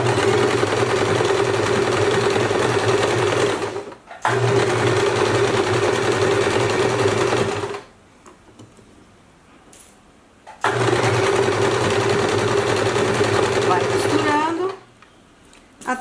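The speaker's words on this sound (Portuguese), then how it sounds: "E vou costurando, né?" A sewing machine fitted with a size 11 needle stitches fabric for a draped gypsy-style dress. Three steady, loud runs of rapid mechanical whirring are each separated by short pauses.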